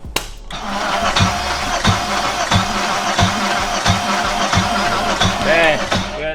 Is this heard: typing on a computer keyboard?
no